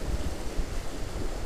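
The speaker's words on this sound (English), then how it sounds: "These waves seem to be getting a little higher" Ocean waves break against shoreline rocks while fishing, a surging wash of surf with wind, continuous and close with small swells in loudness.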